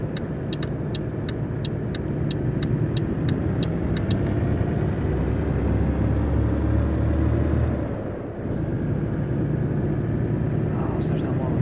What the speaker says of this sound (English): Yeah, that definitely sounds more like a fucking Volvo.